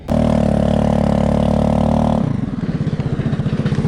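A motorcycle runs with its silencer fallen off, so the exhaust is loud and raw. A harsh, steady roar gives way partway through to a choppy, pulsing idle, close and with no talk.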